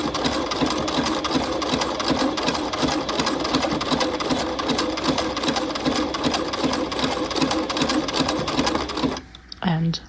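A sewing machine runs steadily, stitching canvas into a half-scale jacket lapel, a dense continuous mechanical whir that stops briefly near the end as a voice speaks.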